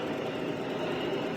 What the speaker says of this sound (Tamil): எல்லாம் டிராக்டர் வச்சு நிறவுறாங்க பாருங்க